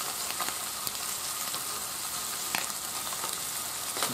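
Bacon sizzles in a pan on a compact camp stove outdoors, a steady quiet crackle with occasional sharper pops and no voices.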